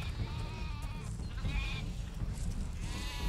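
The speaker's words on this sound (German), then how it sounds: "Niedere Kreaturen blöken da hinten rum" Sheep bleating in the fantasy video game Overlord, several wavering bleats from a small flock over a low rumbling game backdrop, moderately near.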